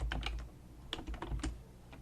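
Quick, close clicks of typing on a computer keyboard, irregular bursts of keystrokes over about two seconds with no talking.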